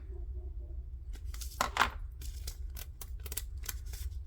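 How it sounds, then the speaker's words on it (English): Scissors trimming paper for a junk journal: a series of quiet, crisp snips and paper rustles, close and distinct, coming in uneven bursts over a low background hum. "Trimming off the mess I have made"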